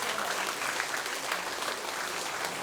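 A crowd at a professional women's boxing event applauds steadily, with dense, even clapping throughout and no pauses.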